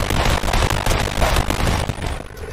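Rapid bursts of gunfire and small blasts crackle through a Fortnite match, dense and loud across the whole stretch, with no voices over them.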